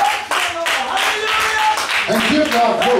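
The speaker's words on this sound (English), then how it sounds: "Clap your hands and give him glory." A church congregation claps their hands in worship, a rhythmic run of claps under a preacher's loud, continuous voice.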